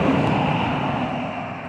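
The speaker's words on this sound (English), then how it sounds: "there's a huge amount of traffic noise." Road traffic hums from nearby streets around a suburban subdivision, a steady, moderately loud wash of passing vehicles with no one speaking.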